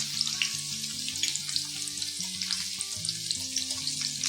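Chillies are dropped into hot oil and fry with a steady, close crackling sizzle, while bright spitting pops and low clinks of a pan or utensil carry on throughout without any voices.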